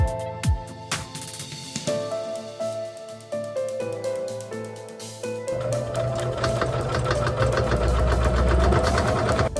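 Sewing machine stitching a quilt inside a fifth-wheel camper, running in steady loud bursts, with short pauses early on and then a continuous fast hum over the last few seconds; no talking.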